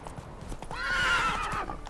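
A horse in The Witcher 3: Wild Hunt gives a single loud, close whinny that rises and falls over about a second, with faint game background around it.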